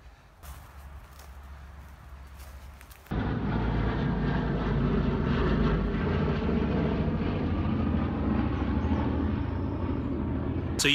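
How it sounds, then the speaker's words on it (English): The vintage B-17 bomber Memphis Belle flies over during an airshow. After a quieter stretch of outdoor ambience, a loud, steady propeller-engine roar cuts in and holds for the rest of the clip. "That was the Memphis Belle, which I think is a B-17 if I'm right."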